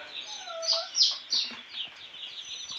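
Newly hatched chicks peep close by in high, thin calls that rise and fall in several quick bursts, with no talking.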